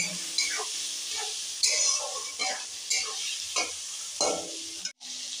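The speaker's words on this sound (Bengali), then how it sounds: "ভালো করে নেড়ে চেড়ে 2 মিনিট মতন কষিয়ে নেব।" Ground cumin, coriander and chilli powder being stirred and fried in a pan, a steady sizzle with repeated scraping strokes of a spoon, close and moderately loud.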